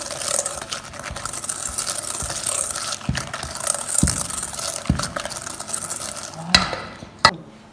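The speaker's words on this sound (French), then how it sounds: "On continue à fouetter doucement." A whisk works gently through a cornflour mixture in a bowl, soft continuous swishing with a few light taps against the side, close and without speech, ending with a couple of sharper clinks.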